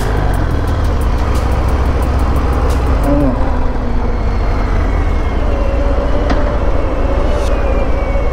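A Harley-Davidson Fat Bob motorcycle with a 1800cc engine accelerates hard, its loud, steady engine roar close by with heavy low rumble and constant wind noise throughout.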